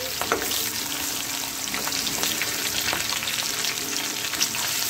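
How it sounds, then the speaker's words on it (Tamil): Sliced ginger fries in a hot pan for an egg podimas with spring onion, producing a loud, continuous crackling sizzle up close, with faint stirring clicks scattered through it. "இந்த இஞ்சியை நல்லா ஃப்ரை பண்ணிக்கிங்க"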